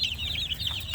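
A bulik gamefowl chicken gives a short, close cluck, a brief throaty burst lasting under a second, heard alone without speech.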